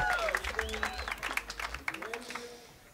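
Audience applause greets Tyler Childers taking the stage at the Gladden House Sessions, a modest room of clapping hands with scattered whoops, starting full and thinning out over a few seconds.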